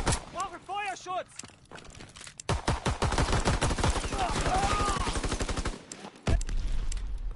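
Pistol shots ring out in the World War II shooter Call of Duty WW2, a fast run of loud, sharp cracks firing in quick succession after a brief voice and game sounds at the start.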